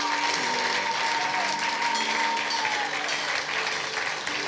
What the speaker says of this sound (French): est-ce qu'on peut applaudir bien fort notre Seigneur?